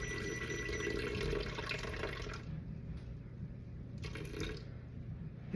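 Tap water running steadily into a mixing bowl as water is weighed out in grams for bread dough, a continuous close splashing stream with a brief pause and a change in pitch partway through.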